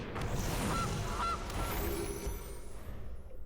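Goose honk sound effect in the MTG Arena video game, two brief nasal honks close together, faint under a loud wash of hissing game noise.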